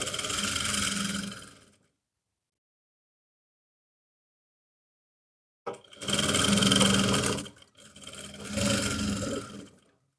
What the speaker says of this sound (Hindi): और पॉकेट के राउंड में सिलाई लगाएंगे